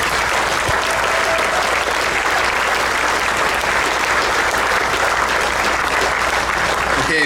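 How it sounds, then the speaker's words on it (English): Steady, loud crowd applause at an outdoor ceremony honoring a color guard before a Semper Fi Fund run, dense clapping sustained throughout with faint voices mixed in. "let's hear it for Sergeant McGinnis and the Color Guard"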